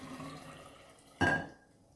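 Water poured from a poor pouring vessel while making kombucha, a short loud splash and gush near the mic that quickly fades, with faint background room noise before it.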